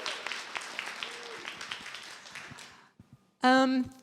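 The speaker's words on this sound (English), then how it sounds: "let's give one last round of applause for everybody who shared and all the work that's being done in our region" Moderate audience clapping with scattered whoops at a community celebration event, sustained for about three seconds, then fading before a brief loud vocal cheer or call.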